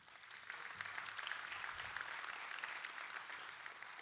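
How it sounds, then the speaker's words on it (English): Audience at a city State of the City event at a church facility claps for the catering team, a sustained, fairly soft round of applause swelling after a brief start. "A big round of applause for our catering team of Off the Vine"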